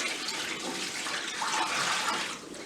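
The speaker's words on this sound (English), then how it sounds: "So here's my water. Okay. I'm just going to pour all that off." Water being poured off collard greens in a bowl, a soft, steady splashing pour lasting a couple of seconds before easing off, no talking.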